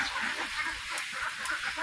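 Several backyard chickens cluck and murmur together nearby behind a house, a continuous busy chatter of overlapping calls with occasional sharper notes.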